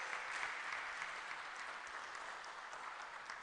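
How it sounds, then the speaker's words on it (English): Dense, steady audience applause for a priest after his lecture on Ghana's challenges from Christian perspectives, even clapping holding at a moderate level throughout. "Can we kindly give Father another round of applause?"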